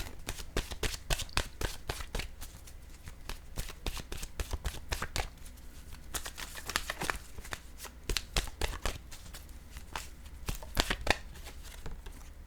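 Oracle cards being shuffled by hand up close, a steady series of quick papery riffling slaps in irregular bursts, fairly quiet with brief gaps.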